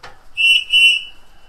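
A shrill whistle blown to call racing pigeons, twice in short, steady blasts, loud and close, with nothing else around it.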